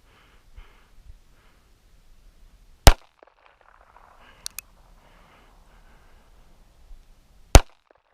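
A Derringer .32 Auto pistol with a 1-inch barrel is fired outdoors, giving two sharp, loud gunshots several seconds apart over near silence, with faint breathing and a small click between them.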